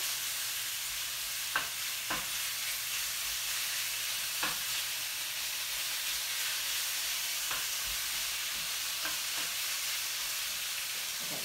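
Beef frying in avocado oil in a hot wok for kung pao beef, giving a steady close sizzle with a few sharp clicks and stirring knocks scattered through.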